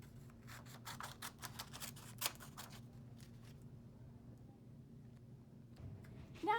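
Small scissors in a child's hand snip through paper in a rapid run of quiet, close cuts, then a pause with faint rustling and a final soft sound at the end.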